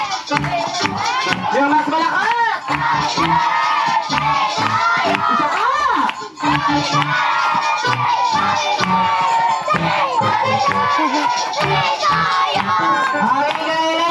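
Birthday party crowd of adults and children clapping and shouting in loud bursts, dense and sustained cheering with rhythmic claps, close and energetic throughout, with a brief dip near the middle.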